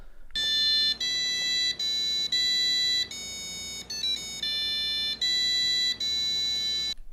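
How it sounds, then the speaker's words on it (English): A passive electronic buzzer plays a sequence of 8-bit style melodic tones, a bright, piercing series of square-wave notes changing pitch about every second, with brief gaps and quick warbling steps between them. "This allows it to do some cool 8-bit era sounding things like this"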